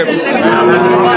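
A cow lets out a long, loud moo over busy crowd chatter at a cattle market selling sacrificial cows for Eid.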